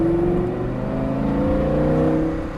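Lamborghini Gallardo engine revs hard as the throttle is applied, a loud, steady, rising roar with strong harmonic tones climbing in pitch, close and alone without talk.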